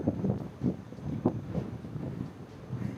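Gusts of wind buffet the microphone on the open upper deck of the Sapphire Princess cruise ship at sea, a low, uneven rumble that swells and fades in short bursts.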